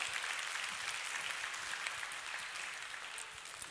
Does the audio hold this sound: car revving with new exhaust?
no